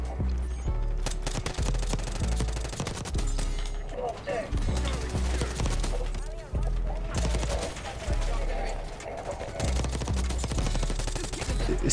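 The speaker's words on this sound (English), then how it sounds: "A bot is shooting me through a bush." Rapid automatic gunfire in Black Ops 6 multiplayer, loud bursts of rattling shots repeating throughout with short gaps, under a player talking.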